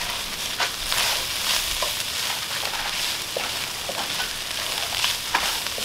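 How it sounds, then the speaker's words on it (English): Chili meat and vegetables are stirred in a Dutch oven, a steady close sizzle broken by repeated scraping and stirring strokes throughout. "Just give this a really good mix."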